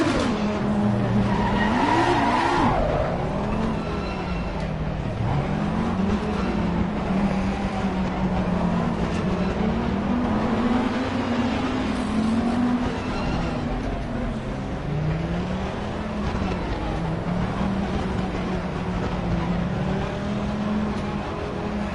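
Audi race car engines in the sim racing game Assetto Corsa Competizione drone steadily while the cars run double file, a continuous loud engine tone rising and falling with faint tire noise.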